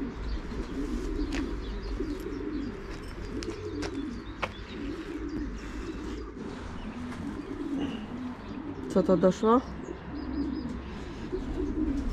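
Racing pigeons at a loft in Szczecin, at the start of the racing season, coo and chirp faintly over low background noise, with a brief burst of calls near the end and a short spoken phrase.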